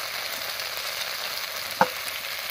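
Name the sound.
spice paste frying in oil with salt and turmeric added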